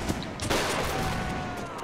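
Musket volleys crack out in a siege battle in the Napoleonic Wars video game, a few sharp shots over steady battlefield noise, fairly loud and without talk.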